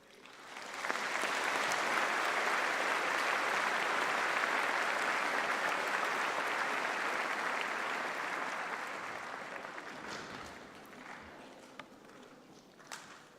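An audience at a university graduation ceremony breaks into dense, sustained applause that fills the hall for several seconds, then gradually thins out to scattered claps near the end.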